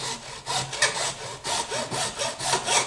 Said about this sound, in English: I'm pushing the saw against the flat and sawing at the same time